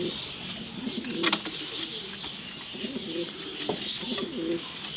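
Large Bango pigeons cooing repeatedly in soft, low throaty phrases against a steady background hiss, with a few faint knocks.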